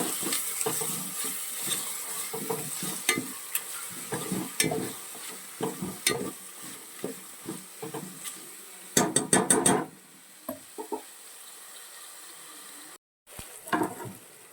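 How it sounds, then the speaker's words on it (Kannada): Chopped tomatoes fry in a pan for vegetable rice bath, with a steady low sizzle broken by repeated scrapes and clinks of a spatula against the pan and a brief gap near the end. "ಒಂದೆರಡು ನಿಮಿಷ ಟೊಮ್ಯಾಟೊ ಫ್ರೈ ಆಗಲಿ"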